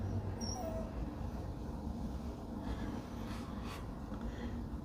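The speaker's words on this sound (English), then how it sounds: "Now my dog is whining because he didn't make it through the door before it closed" A dog whines and whimpers faintly from behind a closed indoor door, soft thin cries rising over a steady low room hum.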